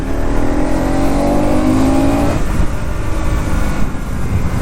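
Bajaj Pulsar NS200 motorcycle engine held at high revs, above 5000 RPM, a loud continuous rasping drone with a rising tone early on, then a steady rough roar to the end, with no voices.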